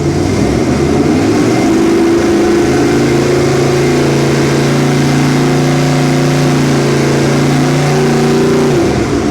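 A car engine runs steadily with the throttle held open while its ignition timing is set to roughly 35–38 degrees, a loud, continuous mid-pitched drone that holds close and alone for the whole stretch.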